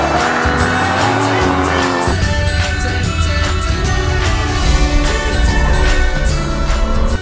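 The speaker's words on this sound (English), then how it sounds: "talking about Paul, I'm talking about this, the brand spanking new Porsche Cayman GT4." A new Porsche Cayman GT4 with a 3.8 liter boxer engine roars steadily at high revs on a track, with a brief shift in tone partway through and faint tire noise, loud and continuous.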